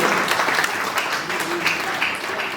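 Loud, dense applause from an award ceremony audience at an anniversary literary honors event, continuous clapping close and full throughout.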